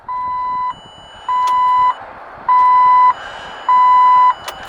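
An electrical tester gives four evenly spaced electronic beeps, each about half a second long, checking 12 volts at a car starter wire, clear against quiet background noise with a faint click at the end.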